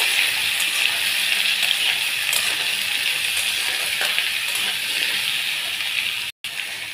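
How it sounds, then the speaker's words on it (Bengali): Potatoes frying in a wok, a steady, close hiss of sizzling oil with faint scraping and clinks from stirring, broken by a brief dropout near the end. "দিয়ে আমি ভালো করে নাড়ব। একটু ভালো করে ভাজা ভাজা হবে আলুটা।"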